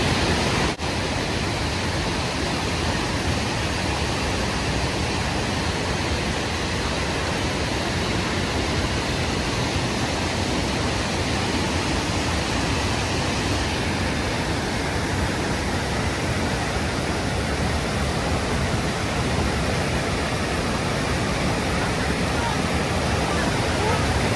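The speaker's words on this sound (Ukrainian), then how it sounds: "Як біжить ось так вода, можна дивитись вічно." Running water rushes steadily and loudly close by, a dense, unbroken roar that stays even from start to finish.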